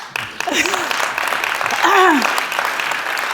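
A crowd claps in steady, dense applause, with a few cheers and whoops rising over it.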